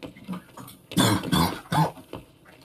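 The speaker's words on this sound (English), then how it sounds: "Cough, cough." Several short, harsh coughs sound close by in quick succession, with quieter throat noises before and after.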